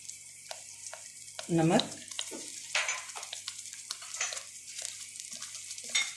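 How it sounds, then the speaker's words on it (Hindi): Chili, salt and spices frying in a pan for kebab masala handi, a steady close sizzle with stirring and scraping throughout, a brief louder burst near the start, and a voice speaking briefly over it. "इसको अच्छे से भून लेंगे"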